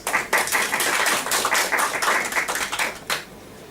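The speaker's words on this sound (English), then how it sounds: "Please give yourselves a big round of applause." Applause from a small club audience at a Toastmasters meeting, a dense patter of many hands clapping steadily for about three seconds before tapering off, with no talk over it.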